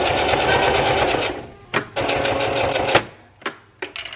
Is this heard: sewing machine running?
yes